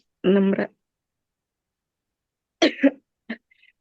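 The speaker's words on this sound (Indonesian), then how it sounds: "Lagi batuk-batuk kah?" A person coughs once sharply, then again after a pause with a short throat-clearing follow-up, close and dry in an otherwise silent room.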